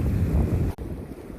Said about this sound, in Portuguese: vento que não dá pra ficar nem de pé